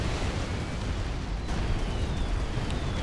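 Bombs from an air strike in a strategy video game fall on enemy engineers, making a continuous rumbling barrage of explosions with scattered sharp bursts at a moderate distance.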